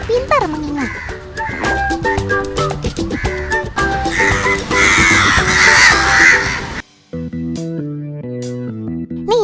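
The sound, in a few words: crow cawing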